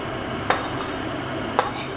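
A metal spoon clinks twice against a cooking pot as fried spice paste is added to Bengali bhoger khichuri and stirred, over a steady low background hum.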